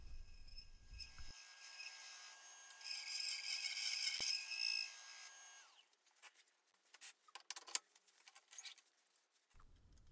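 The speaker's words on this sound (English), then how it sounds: "I'm going to do a little shear scraping for the final finish on the outside." A shear scraper works the outside of a spinning cherry burl bowl on a wood lathe, giving a faint hissing, rasping scrape over a few seconds, followed by scattered light taps and rubbing.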